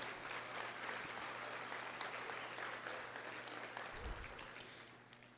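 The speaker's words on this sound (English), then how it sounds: "that is worth a round of applause" An audience at the Port Corpus Christi State of the Port event applauds the new Harbor Bridge, a sustained, even patter of many hands clapping that gradually tapers off, with a low hum beneath.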